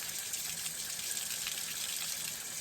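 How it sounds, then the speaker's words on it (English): Cold water runs steadily onto a hot cast iron step pulley from a drill press, a continuous moderate hiss and splash with no talking. "Putting cold water on a hot cast iron piece."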